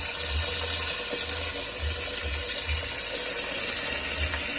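Cold water pours steadily over boiled garden vegetables, a continuous close splashing rush with a faint low mechanical rattle beneath.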